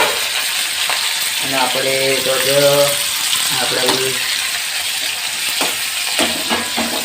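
Chopped onions sizzle and fry loudly in a pan for Maggi noodles, with steady crackling and occasional stirring clatter while a person talks over the cooking.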